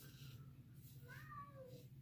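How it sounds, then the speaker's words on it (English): A house cat meows outside a closed door, a few faint, drawn-out rising and falling cries heard from a distance over a steady low hum. "and then Sarge, the cat, starts talking"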